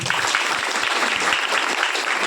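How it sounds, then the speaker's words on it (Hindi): Enthusiastic applause for the chairman at an Adivasi Trust gathering in Orissa, a dense, steady patter of many clapping hands throughout, fairly close and without speech. "सार को लेके ये भी जोरदार ताली होता है"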